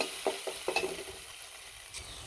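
Chicken pieces fry in a pan with ginger and garlic for a Chinese-style vegetable dish, a constant sizzle broken by a few quick stirring taps and scrapes, no talk.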